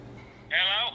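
A phone dialing or ringing tone, a steady electronic burst that comes in partway through and holds for about half a second before cutting off, with a faint voice murmuring underneath before it starts.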